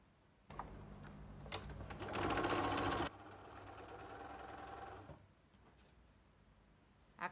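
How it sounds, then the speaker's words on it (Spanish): A sewing machine chain-piecing quilt pieces, its motor running in a steady whirring burst that speeds up briefly before stopping, close and clear with no talking. "También voy a coser en cadena."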